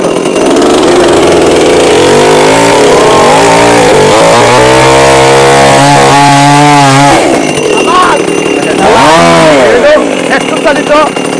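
A petrol-powered chainsaw runs loud and close, its engine rising and falling in pitch as it revs and idles, with a person talking over it.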